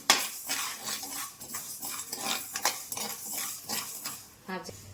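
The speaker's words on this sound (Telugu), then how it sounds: "1 స్పూన్ మెంతులు అయితే వేస్తున్నాను. ఆవాలు 2 స్పూన్లు, వీటిని దోరగా వేయించుకోవాలి." Fenugreek and mustard seeds are dry-roasted in a pan, with repeated close spoon scrapes and metallic clinks against the pan at an uneven stirring rhythm and a light crackle underneath.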